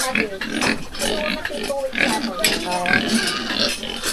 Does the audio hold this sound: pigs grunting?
yes